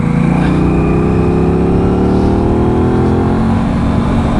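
A motorcycle engine holds a loud, steady drone as the bike leans through a track corner, its pitch easing down slightly and then rising again, close and continuous.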